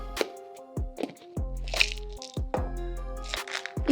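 A plastic yogurt container with a lid and a built-in spoon is opened, giving several sharp snaps and crackles in a quiet room, close up and alone.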